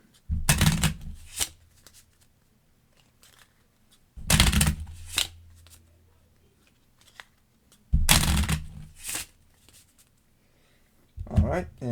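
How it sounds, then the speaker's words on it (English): A deck of playing cards for a Marvel Champions card game is riffle-shuffled in three separate bursts, each a quick close rattle followed by a pause. "And we shuffle."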